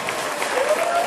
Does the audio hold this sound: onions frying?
no